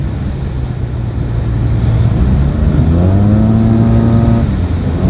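Yamaha TMAX 560 scooter fitted with a Malossi Termignoni exhaust, a steady low engine drone that swells into rising harmonic tones as it accelerates over continuous road and wind noise.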